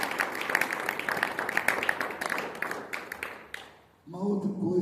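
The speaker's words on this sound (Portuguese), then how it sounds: "Você pode aplaudir o nome do Senhor." A church congregation applauds, producing a dense wash of clapping for about four seconds before it gives way to a voice with music.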